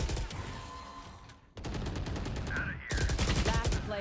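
Rapid automatic gunfire in a shooter game, dense repeated shots hammering loudly and close, pausing briefly before a second heavy burst, with a whistling effect in between.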